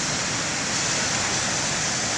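Steady, dense roar of ocean surf breaking at the main lighthouse beach, a loud continuous wash with no distinct individual wave crashes, heard without any voices.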